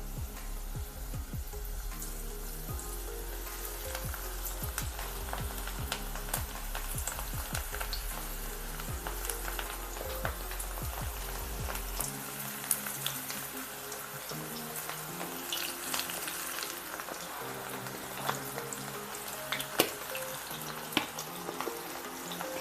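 Mixed vegetable pakoda batter crumbled bit by bit into hot oil over a slow flame, giving a steady dense sizzle and crackle throughout, with occasional scraping and light clatter close by.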